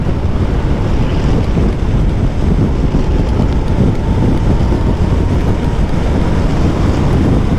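Steady, loud rushing wind buffets the microphone while riding a Moto Guzzi V100 Mandello S motorcycle in gusty crosswinds, a continuous broadband roar with no break and no voices.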